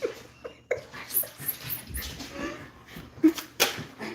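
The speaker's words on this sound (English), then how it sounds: "Why are you barking?" A dog whimpers and gives short yips and barks indoors, close by and excited, while someone talks over it.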